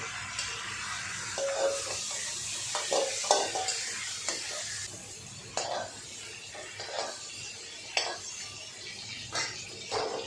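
Chicken fries lightly in a pan while a utensil stirs it, with repeated scraping and clinking strokes over a constant sizzle, close and fairly loud.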